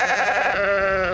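A sheep bleats at a grazing site in Hawaii, where the flock is used to cut grass and weeds for fire prevention; one close, wavering bleat that stays loud and clear throughout.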